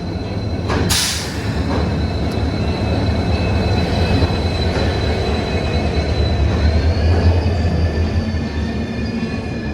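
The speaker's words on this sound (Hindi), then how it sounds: "तो फाइनली हमारी ट्रेन आ चुकी है" A train rumbles loudly and continuously through a station in Bikaner, wheels and carriages grinding with a steady low roar and occasional squeal. There is no talk over it.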